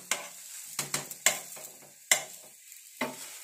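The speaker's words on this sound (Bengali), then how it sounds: "এই যে ঘিটা পড়ে আছে সাইডে, এটাকে ভেজে নিতে হবে। আমি সামান্য একটু ভেজে নিই।" Patishapta pitha fry in ghee with a quiet sizzle under sharp, repeated spatula scrapes and taps against the pan, a handful of close strokes spaced irregularly.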